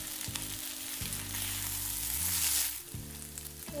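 Vegetables (soya and potato with dill) cooking in an open pan as excess water evaporates, giving a steady close sizzle and frying hiss throughout, with a low hum underneath.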